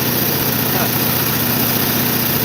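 A 1984 Yard Machine riding tractor with an 18.5 horsepower engine runs loud and close, a steady continuous drone with no clear rise or fall, and a voice talking faintly underneath.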